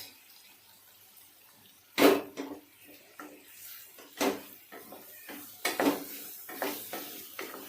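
Minced pork and potatoes get stirred in a pan, a spoon scraping and clinking against the metal in irregular close knocks, with a soft sizzle underneath.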